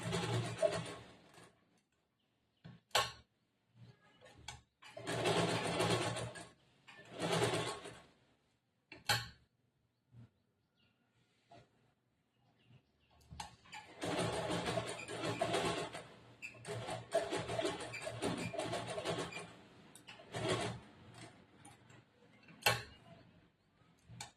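Domestic sewing machine stitching a lined blouse, running in several bursts of rapid mechanical chatter separated by pauses and clicks as the fabric is turned, close and alone without talk.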